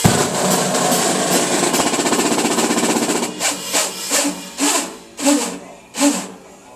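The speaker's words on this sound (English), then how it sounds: "if I take the stick and I go in a circle motion, counterclockwise, I get like a slowdown effect on the DJ thing" A drumstick circles counterclockwise on an electronic drum pad to trigger a DJ slowdown effect, heard as a dense buzzing electronic tone that breaks into slowing, spaced pulses and swells toward the end, loud and with no talk.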